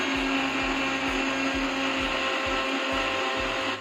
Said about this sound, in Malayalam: എന്നിട്ട് പിന്നെയും 10 സെക്കൻഡ് നമ്മൾ ബ്ലെൻഡ് ചെയ്യുക.